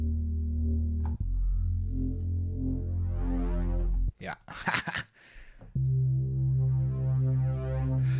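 Synthesizer sub bass layer rebuilding the Dune bass sound: deep, sustained low tones that swell steadily, cut out briefly midway while a voice speaks a single word, then return loud and steady.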